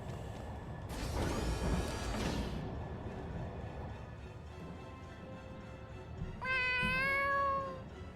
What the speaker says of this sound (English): Is that your cat?